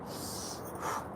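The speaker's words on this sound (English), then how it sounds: "breathing in and breathing out, you can do this slowly" A slow exhale during a qigong breathing exercise, a soft airy breath heard close and faint, swelling slightly near the end.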